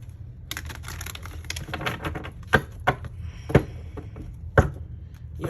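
Tarot cards are shuffled by hand in a quiet room, giving soft riffling and scattered light taps, with a few sharper card slaps near the end.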